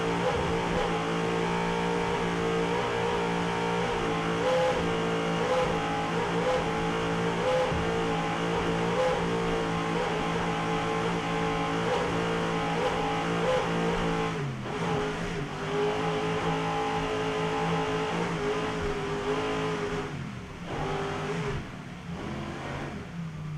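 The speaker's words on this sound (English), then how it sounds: "Listen to those Sterling motors performing flawlessly at the hands of Randy Sissom and Todd Warner aboard Pro Marine" Sterling engines on a Super Cat class offshore racing powerboat at the Key West finals, a loud, sustained roar with steady high-revving tones that dips briefly, then continues and fades slightly near the end.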